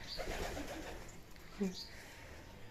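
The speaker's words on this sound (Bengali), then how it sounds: "কবুতর ছাড়ে দেওয়া হচ্ছে" A pigeon gives a couple of soft, low coos close by, over faint background noise.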